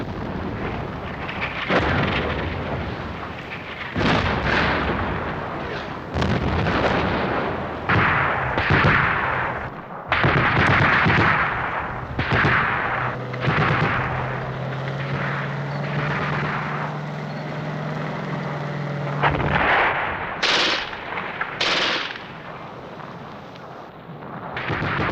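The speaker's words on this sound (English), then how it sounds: "Under heavy artillery support," Heavy artillery fire during the Normandy campaign of the Second World War, near Caen: repeated loud booming blasts and rumbling explosions across the whole stretch, with a sustained droning tone in the middle, like passing aircraft.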